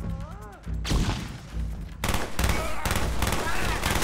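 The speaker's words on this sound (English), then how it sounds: "Flashbang!" Loud gunfire and a flashbang detonation in a Call of Duty: Black Ops campaign firefight, with dense bursts and booms, a sharp blast near the two-second mark, and a shouted voice over the chaos.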